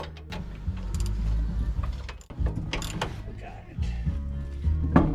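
Wrench work on the sway bar bushing and control arm bolts of a 2002 Ford F150 during a lowering kit install: close, uneven metallic clicks and rattles, with low rumbling handling noise in between.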